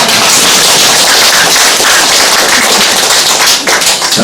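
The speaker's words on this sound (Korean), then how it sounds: "박수 한번 드려보겠습니다" A hall audience at a city mayor's community briefing breaks into sustained, dense applause, loud and close, a continuous wash of many clapping hands that holds steady and only thins slightly near the end, with no talking.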